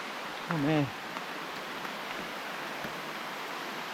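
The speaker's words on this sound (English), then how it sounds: "This rain is getting heavy." Steady, heavy rain hisses continuously at a Philippine eco park waterfall, with a brief vocal sound near the start.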